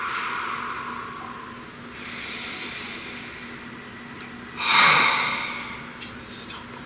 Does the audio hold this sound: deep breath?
yes